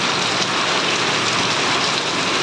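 A torrential downpour driven by strong wind roars close and loud, a constant dense hiss with no pauses.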